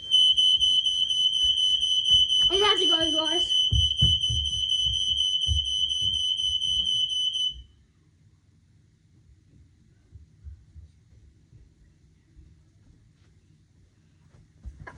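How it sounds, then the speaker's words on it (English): A smoke or fire alarm shrills loud and steady for about seven seconds, goes abruptly silent, and leaves faint room noise behind. A person speaks briefly while it sounds. "the fire alarm's going off."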